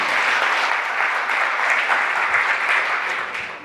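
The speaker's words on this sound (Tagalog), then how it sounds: "Ang mga masaya ay pumalakpak sa ating Panginoon." A church congregation claps during a worship service, a dense, steady wash of applause from many hands that fills the room for several seconds and tapers slightly at the end, with no talk over it.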